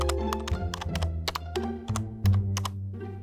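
Typing on a Magic Keyboard: a quick, uneven run of close, crisp key taps and clacks, several strokes landing in short bursts with no voices.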